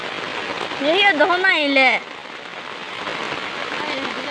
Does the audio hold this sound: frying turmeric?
no